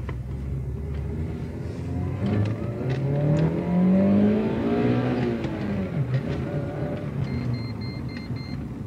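A VAZ factory car's engine revs hard inside the cabin, the pitch climbing steadily to the rev limiter before dropping back, followed by a few electronic warning beeps.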